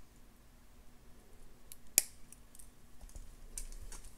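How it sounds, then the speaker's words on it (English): A single crisp snip of scissors cutting excess jewelry wire while making a beaded crystal necklace, close and brief, followed by faint small handling clicks. "Snip off the excess,"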